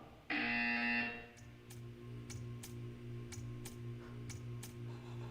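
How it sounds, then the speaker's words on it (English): In the video game Portal 2, a loud electronic buzzer sounds once for about a second, then a quiet steady hum continues with faint regular ticking clicks. "When you hear the buzzer, stare at the art."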